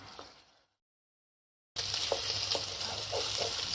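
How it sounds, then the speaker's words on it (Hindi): Chicken sizzles and crackles steadily in a hot pan after a brief moment of silence, with light stirring sounds as its released water cooks off. "अब चिकन ने जो पानी छोड़ा इसको हम खुश्क कर लेंगे।"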